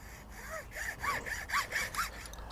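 A hand saw cuts through the bony spurs of a turkey leg clamped in a vise, with a run of short rhythmic rasping strokes close up.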